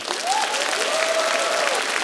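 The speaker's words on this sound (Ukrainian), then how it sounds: "Зал вам аплодує" Studio audience applause on a Ukrainian comedy game show, a steady wash of clapping heard at moderate distance for the whole stretch, with a faint voice over it.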